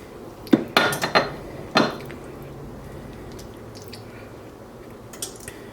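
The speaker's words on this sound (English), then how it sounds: "So in we go with our sliced sausages. And what juices are left in the bowl." Sliced sausages and leftover bowl juices tipped into a cooking pan for supper, a few sharp clatters and knocks of utensil against pan up front, then a quiet low simmer.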